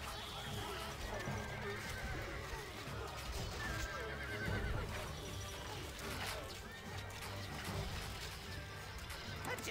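Several horses in the game Stronghold HD whinny repeatedly over continuous clip-clopping hooves, with scattered clashes and ambient battlefield clutter throughout.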